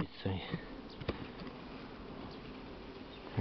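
Honey bees buzz around an opened hive during spring nest expansion, a faint steady hum with a few close clicks and handling knocks.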